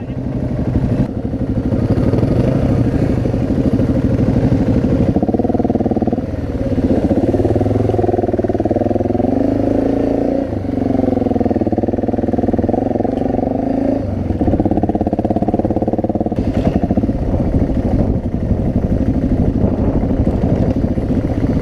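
An adventure motorcycle rides off-road, its engine droning loud and close with rising and falling revs, rumbling and clattering steadily throughout with brief dips as the throttle changes.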